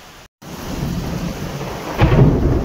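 Heavy unseasonal rain pours in a dense, steady roar with low thunder rumbling throughout, briefly cutting out early and swelling louder near the end.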